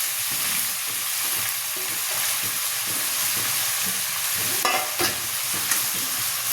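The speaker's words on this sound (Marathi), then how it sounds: "त्याला छान परतून घ्यायचं." Chopped sorrel leaves sautéed in a pan of dal seasoned with asafoetida, a steady close sizzle and frying hiss with scraping stirs throughout and a few louder clatters near the end, no speech.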